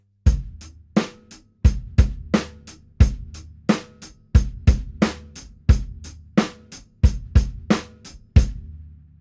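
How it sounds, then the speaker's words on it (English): A simple classic rock drum groove played on a kit, with steady hi-hat quavers, kick drum and snare backbeats, loud and close, repeating evenly for several bars with no talking. "with hi-hats just playing quavers and snare drums on the backbeats"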